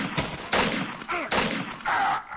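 An upgraded shotgun fires in the Clash3D video game, several loud close blasts with ringing, ragged tails separated by brief gaps.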